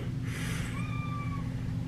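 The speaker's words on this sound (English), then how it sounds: "my cat's over here like crying to death. She just wants out." A pet cat meows plaintively indoors, wanting to be let out, giving one drawn-out, wavering cry over a steady low background hum.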